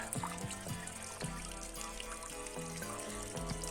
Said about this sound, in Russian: Вот он качает, вот как вода течет.